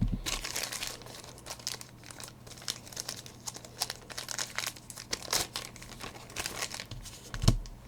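Scissors snip open crinkly plastic packaging of Star Wars Rivals convention-exclusive game cards by Funko Games, giving a continuous close rustle and crackle of wrapping with a sharper snap near the end.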